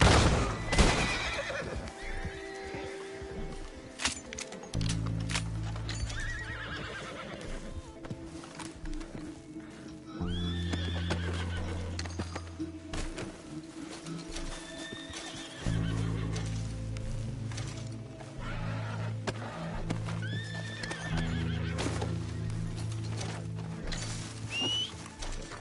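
A horse in Red Dead Redemption 2 whinnies several times over steady rhythmic hoofbeats clip-clopping at a trot, with bird calls and a light outdoor ambience behind, fairly close and moderately loud.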